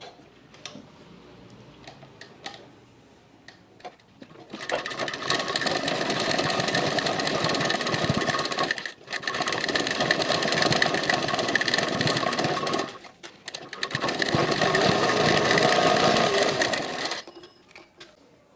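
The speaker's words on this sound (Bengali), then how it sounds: "এরপর আমি 22 পট্টির ওপরে টপ স্টিচ দেব।" A sewing machine top-stitches a multi-colour fabric cord piping strip in three long runs of fast, even mechanical ticking and whirring, close and loud, separated by brief pauses.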